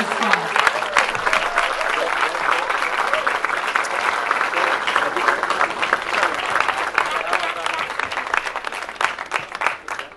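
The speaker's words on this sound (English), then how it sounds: "A big cheer for her" A crowd at the opening of India House during the Paris Olympics breaks into sustained applause and cheering for an Indian Olympic hurdler, loud and continuous for around ten seconds, with speech mixed in.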